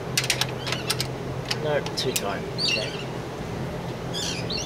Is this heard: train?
no